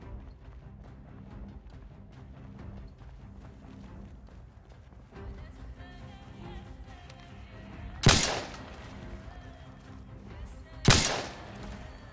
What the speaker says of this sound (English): Really shouldn't be using the shotgun for single targets.